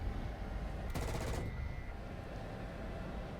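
A short burst of aircraft cannon fire from a Kfir C.2 jet in a War Thunder simulator battle over Europe, lasting about half a second over a steady low engine and wind rumble.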